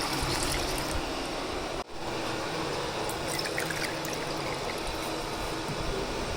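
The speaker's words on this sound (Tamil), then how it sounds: "அப்படியே தண்ணி ஊற்றிடலாம்." Steady trickling water being poured into buttermilk, running continuously at close range with a brief dip partway through.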